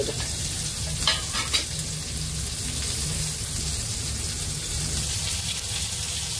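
Bombay duck fish fry in a pan with a constant, even sizzle, broken by a couple of brief clinks early on.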